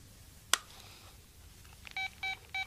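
Telephone keypad dialing tones on an old phone whose call will not connect: a sharp click, then three short evenly spaced tone beeps, alone and fairly clear.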